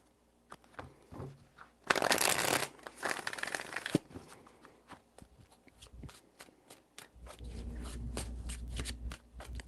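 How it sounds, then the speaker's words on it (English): Tarot cards being shuffled close up, with a loud burst of riffling followed by quieter rhythmic slides and taps of the deck, then a softer continuous shuffle, with no voices. "Three shuffles."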